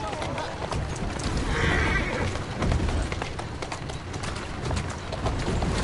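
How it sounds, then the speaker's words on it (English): A horse whinnies amid clopping hooves and movement in the video game Assassin's Creed: Syndicate, with scattered rustling and a voice nearby. "Who's a good horse?"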